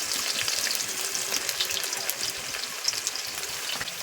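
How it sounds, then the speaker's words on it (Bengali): Cut mango pieces dropped into hot oil for pickle, giving a loud, close, continuous bubbling sizzle with light crackles throughout. "তেলটা গরম হয়ে গেছে। এবার দিলাম কেটে রাখা আম।"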